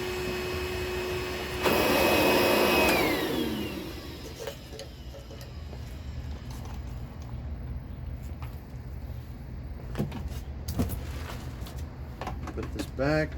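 DeWalt DCV581H 18/20V MAX cordless wet-dry vacuum, a loud motor whine surging up for a couple of seconds then winding down, followed by quieter handling clatter and clicks.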